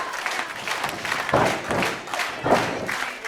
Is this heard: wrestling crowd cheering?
yes